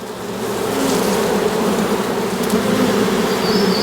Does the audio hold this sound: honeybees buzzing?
yes